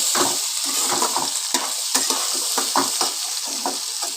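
Potatoes and chopped onions crackle in hot oil as a utensil scrapes through them in quick, regular strokes over a constant sizzle, close and fairly loud, with no voices.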